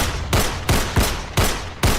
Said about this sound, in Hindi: तेजा ने बिना देरी किए अपनी पिस्टल की 6 गोलियां उसके सीने में उतार दी।